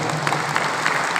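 Steady audience applause for an honoured guest at an Indonesian organisational gathering, a continuous even patter of many hands clapping with no gaps.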